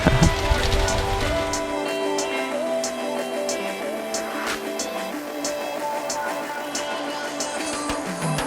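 Rain falling steadily during a bikepacking trip on the Kettle Valley Railway, a dense continuous patter with scattered individual drops close by, loud at first and then easing slightly but persisting throughout.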